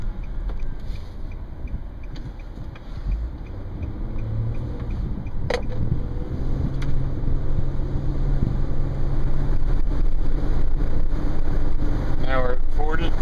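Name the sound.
sunroof wind noise in 2010 Nissan Murano at 25-30 mph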